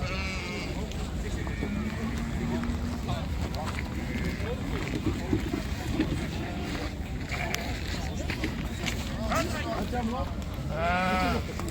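Bleating from ewes with lambs at a Taraz livestock bazaar comes in scattered bursts, with one louder call near the end, beneath continuous market chatter and voices.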